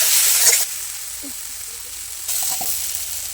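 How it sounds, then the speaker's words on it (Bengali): Potatoes sautéing in hot oil for a Bengali mocha ghonto with prawns, a soft broadband sizzle that drops back after the first half-second and swells again near the end, with faint stirring clinks and no talk. "আলুগুলো একটু ভালো করে কষিয়ে দেবো"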